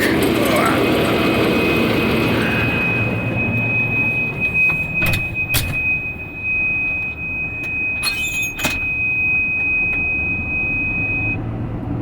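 Combine harvester engine harvesting sunflower, a loud steady roar with a sustained whine running through it and a few sharp clicks near the end.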